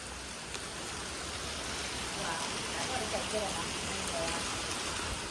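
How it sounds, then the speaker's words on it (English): Heavy rain pours down outdoors before dawn, a steady dense hiss of drops beating on pavement near a drain, close and continuous throughout with faint scattered chirps in the background. "Standing outside in this pouring down rain."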